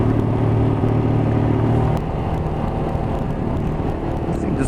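A Royal Enfield Himalayan motorcycle being ridden, its steady engine drone and road rumble loud and continuous throughout with a slight dip in level partway.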